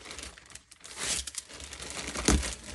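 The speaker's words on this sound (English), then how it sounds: "So I put it in this plastic bag" A plastic bag crinkles and rustles up close in irregular bursts as an Etsy order is packed, with one sharper crackle near the end and no talking.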